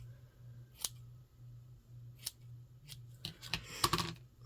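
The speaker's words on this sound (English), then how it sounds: "so I'm just going to trim this down just a little bit" Scissors trimming craft paper in a few quiet, separate snips, with soft rustling and handling of the paper at the end over a low steady hum.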